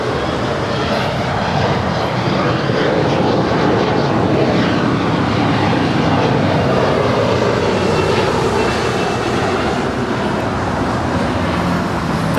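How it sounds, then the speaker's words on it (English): American Airlines Airbus A321neo airliner departing Los Angeles International Airport, a steady loud jet engine roar that holds throughout, close and continuous with broadband rumble, no talking. "Next departure is American Airlines Flight 1680 heading to Miami, Florida. It's an A321neo."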